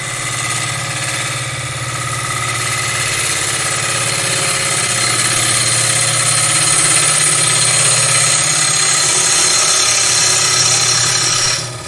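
Woodturning gouge cutting across a spinning wooden plate on a lathe, a steady continuous rasping hiss over a low motor hum, loud and close, with no talk.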